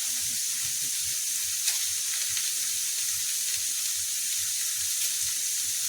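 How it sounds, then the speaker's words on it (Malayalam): Onions sizzle steadily in a hot pan with oil as they are sautéed for fish pollichathu, making a constant bright hiss with soft, irregular pops and no voices. "ഇനി നമുക്ക് മീൻ പൊള്ളിക്കാനായിട്ട് കുറച്ച് സവാള വഴറ്റിയെടുക്കണം"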